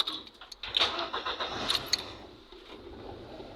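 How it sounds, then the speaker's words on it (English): Ford Bantam car engine cranks and catches, a short rough starting burst settling into a quieter running sound, heard close with some rattling. "Let's switch off and start again."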